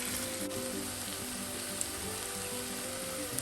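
Sliced onions frying for a chicken and potato curry, a steady, even sizzle in a pan that carries on without a break at moderate loudness, with no voices.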